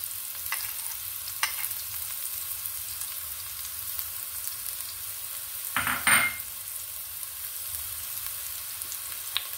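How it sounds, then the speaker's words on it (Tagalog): Onion and garlic sauté in a pan with a quiet, steady sizzle, a few soft scrapes of stirring, and a brief louder sputter partway through. "Salayin na natin ang sibuyas at bawang."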